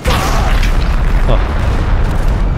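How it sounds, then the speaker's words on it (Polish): A loud, booming explosion in the Roblox war game Centura rumbles heavily and continuously, dense low crackling filling the whole moment. "Coś wybuchło i go zrobiło."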